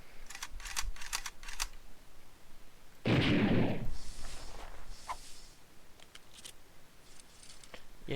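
A musket shotgun fires in a video game built around a turtle weapon system. Light clicks come first, then a single loud blast with a rough, decaying tail, followed by softer scattered ticks.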